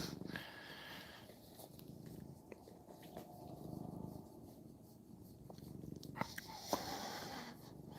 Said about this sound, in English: He's purring good, too.